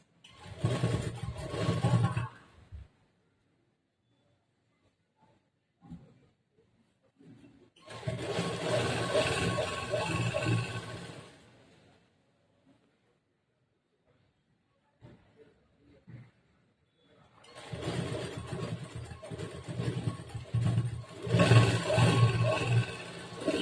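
A sewing machine stitches a blouse in three separate runs, each a loud, steady whir lasting a few seconds, with quiet pauses between them.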